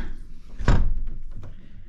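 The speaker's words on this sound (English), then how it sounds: "let me close the door first." An apartment door closes with a single solid thud, up close and fairly loud, followed by a short low rumble as it settles.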